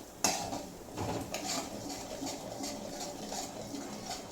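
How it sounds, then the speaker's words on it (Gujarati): Semolina (rava) being added to a pan and stirred over a low flame for a maha prasad sweet. A sharp metallic clink comes first, then soft scraping and clattering of the utensil against the pan, faint and close. "હવે હું એડ કરું છું રવો"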